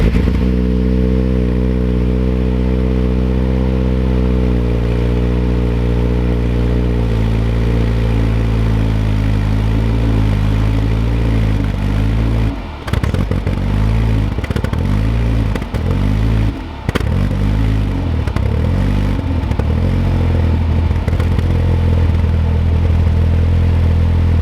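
A cammed 2.5L turbocharged Mazda MX-5 NC engine runs steadily on a dyno with a deep harmonic drone, then revs and surges in uneven bursts before settling back to a strong rumble.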